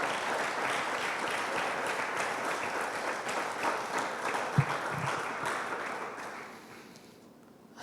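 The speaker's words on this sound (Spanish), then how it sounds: "Si le va a dar el aplauso, yo pienso que es bueno darlo al Señor." Applause from a church congregation during a Spanish-language service, a steady wash of clapping that holds for several seconds and then fades away near the end.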